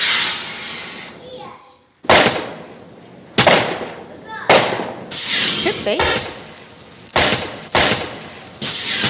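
Recorded fireworks burst in a series of loud, crackling bangs and booms with short gaps between them. A brief voice is heard partway through.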